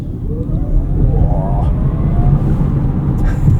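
A 2024 Polestar 2 Performance Plus electric car pulls hard away from a stop at night. From inside the cabin, a steady low road rumble carries a faint rising motor whine.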